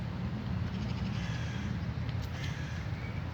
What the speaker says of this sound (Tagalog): Diyan na sila.